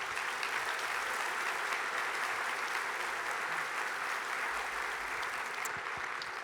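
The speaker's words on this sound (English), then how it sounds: "let's give a round of applause to our panel members" Audience at an Air Force Association conference session applauding panel members, a continuous even wash of clapping from a large room, moderately loud and sustained for several seconds with no speech.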